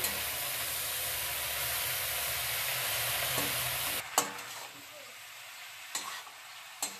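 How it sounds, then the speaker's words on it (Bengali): Chopped bottle gourd greens hiss and crackle as they are stirred into a frying vegetable curry, a loud continuous sizzle that drops quieter midway, followed by a few sharp spatula knocks against the pan. "এবার কেটে রাখা লাউয়ের শাকগুলো আমি দিয়ে দিচ্ছি। আমি আর একটু নেড়ে চেড়ে নেব।"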